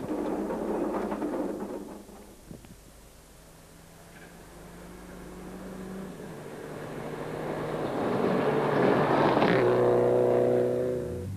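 A Subaru Impreza WRX rally car races along a gravel stage at the Tour Natal 2006 rally, its engine noise steady and fairly loud, dipping slightly and then building again as it revs hard near the end.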